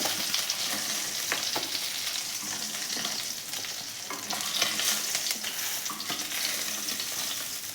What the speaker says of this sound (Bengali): মাছগুলো ভাজা হয়ে গেছে, এগুলোকে এবার নামিয়ে ফেলছি।